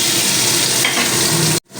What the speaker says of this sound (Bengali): মশলাটা একটু ভাজা ভাজা করে নিতে হবে নিয়ে এবার আমি ওই উচ্ছেগুলো আবারও দিয়ে দিলাম